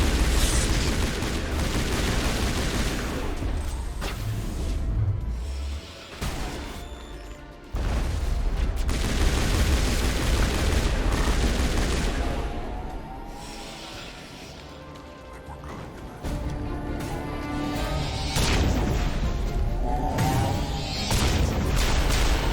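Sustained gunfire and crashing impacts from a Mass Effect firefight, loud and dense for most of the stretch, with short lulls and bursts of blasts layered under game music.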